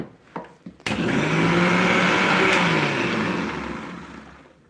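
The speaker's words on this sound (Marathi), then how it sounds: "मिक्सर वाजतं झालं" A few sharp knocks, then a mixer grinder starts and runs with a loud, steady, close whirring roar that swells slightly and holds to the end.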